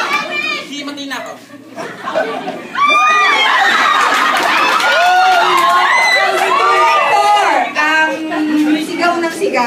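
High-pitched shrieks from a group of students, repeated over and over with loud crowd chatter, close and continuous after a quieter start.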